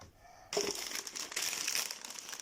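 A plastic bag crinkles loudly up close as it is opened, beginning abruptly after a quiet pause and going on as a dense, continuous rustle for about two seconds, with no talking.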